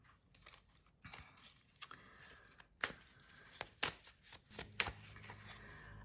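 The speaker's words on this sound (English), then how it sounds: "I am shuffling and shuffling." Tarot cards are shuffled by hand in a quiet room, a soft papery riffling with sharp snaps and flutters that come in irregular bursts and build toward the end.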